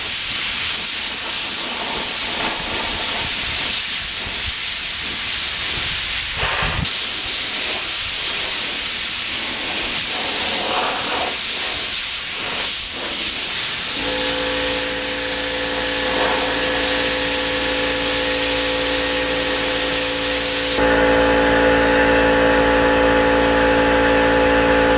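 A spray gun lays clearcoat onto BMW motorcycle parts in a continuous loud hiss that runs unbroken for the whole stretch, with a steady mechanical drone joining in partway through.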